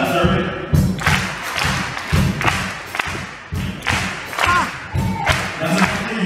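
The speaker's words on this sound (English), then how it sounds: "Now we're going to go two claps, all right?" A Charleston clap tutorial audience claps in a two-clap pattern, paired group claps repeating in a steady rhythm, loud and close, with some voices in the crowd.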